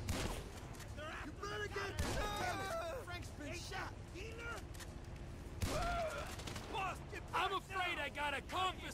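Gunfire from GTA 5 rings out in a chaotic shootout: scattered sharp shots and bursts under constant shouting voices and game sound, with heavier blasts at a few points.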